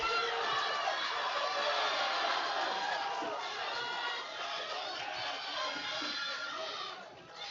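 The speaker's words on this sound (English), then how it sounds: "We have a haka happening in the crowd right now." A crowd at a powerlifting meet performs a haka, with massed rhythmic chanting and shouting that carries steadily from a distance through a large hall.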